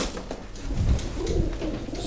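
Pigeons cooing at a bird auction, with soft low coos from close by and a few over a murmuring background.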